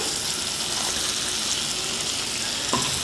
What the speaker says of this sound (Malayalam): അതുകൂടിയിട്ട് നന്നായിട്ടൊന്ന് വഴറ്റിയെടുക്കാം